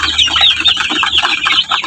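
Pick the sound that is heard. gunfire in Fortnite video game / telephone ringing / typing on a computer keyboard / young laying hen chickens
young laying hen chickens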